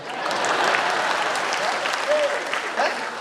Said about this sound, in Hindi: तालियों का घनत्व कम नहीं होना चाहिए